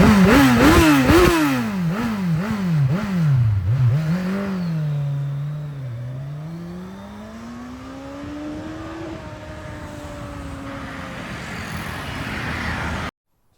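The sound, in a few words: motorcycle engine revving as throttle is given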